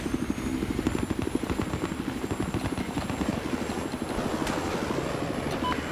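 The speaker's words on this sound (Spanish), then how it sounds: "Déjame el helicóptero ese." Battlefield 4 game helicopter with rapid rotor chopping and a steady engine whine, loud and close and continuing without a break.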